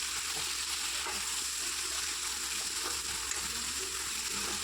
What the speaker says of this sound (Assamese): ধুনীয়াকৈ বিলাহীখিনি ভাজি ল'ব